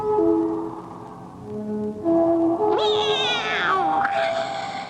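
A cat's drawn-out, wavering meow rises and falls over a sustained droning tone and low background, a single long call about two seconds long, fairly loud and close.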